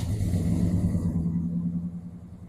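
A 1987 Chevrolet squarebody 4x4 truck with a V10 engine runs in a deep, steady rumble close by, the throaty idle dropping off slightly toward the end.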